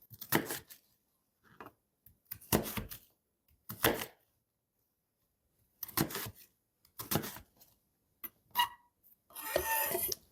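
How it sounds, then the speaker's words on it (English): A knife cuts a medium yellow onion into chunks in a quiet kitchen, giving a series of separate crisp chops and thunks at irregular intervals, then a louder, rougher scrape at the end. "I'm going to take a medium yellow onion and cut that into chunks"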